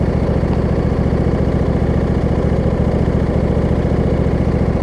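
A Husqvarna riding lawn mower fitted with a swapped-in hydrostatic transmission drives along, its engine chugging in a steady, loud, close rhythmic drone with no voices.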